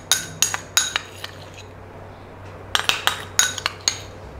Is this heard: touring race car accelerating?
no